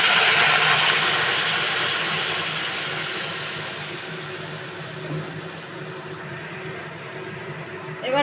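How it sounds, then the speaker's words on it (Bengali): Hot water hits fried spices, salt and turmeric in a pan, releasing a loud, broad steamy hiss that gradually settles into a steady simmering rush. "এবার আমি গরম জল দিয়ে দেবো"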